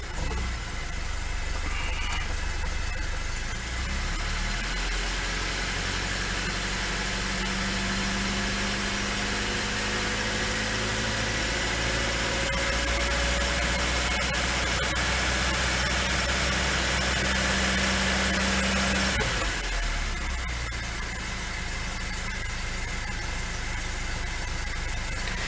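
A Lada 2102 engine idles steadily for a long stretch, a loud continuous rumble with a mild rise in pitch partway through, no talking; the engine has a flat spot.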